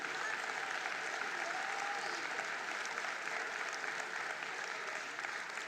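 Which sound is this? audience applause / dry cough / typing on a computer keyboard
audience applause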